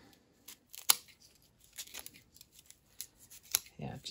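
Scissors snip through an Aerogarden plant stalk in a quiet indoor space, several short, crisp cuts and rustles at irregular intervals, close and faint, with brief low speech near the end.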